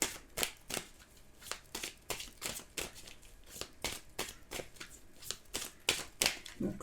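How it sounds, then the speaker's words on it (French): Tarot cards shuffle close by in quick, repeated riffling bursts, a crisp papery flutter that keeps up an even, steady rhythm for several seconds. "je vais prendre 3 cartes pour voir le lien"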